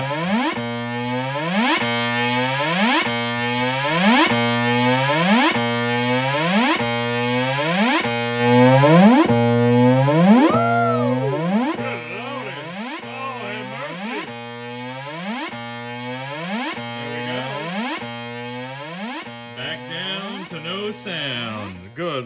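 An electric guitar played through a Rivera Fifty Five 12 amp with a high-gain boost pulled, loud saturated chords and bends chugging in a repeated rhythmic riff, thick with distortion and sustain.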